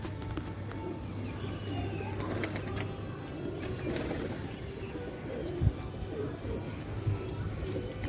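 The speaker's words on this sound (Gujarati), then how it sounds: "હવે કબૂતર ઉડીને ખોટા પાણી પી લે" Pigeons cooing softly near a rooftop water spot, with a steady low murmur of coos and faint background noise throughout, a brief thump around the middle.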